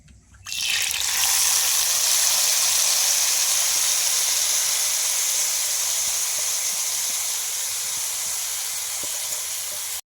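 Vegetables for winter-vegetable momos stir-frying in white oil in a wok, a loud, steady hiss of sizzling and steam that starts abruptly and holds strong throughout, slowly easing toward the end.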